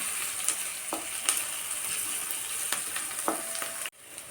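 Browning onion sizzling steadily in hot oil as ginger-garlic paste is stirred in, with a few spoon scrapes against the pan over a continuous close hiss that cuts off abruptly near the end.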